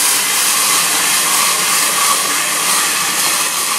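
Water splashed into a hot pan under a flipped lid to steam green beans, a loud steady close hiss that holds unbroken throughout.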